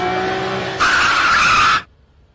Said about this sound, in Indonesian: Saat pergi, tiba-tiba sebuah mobil muncul dan hampir menabrak mereka.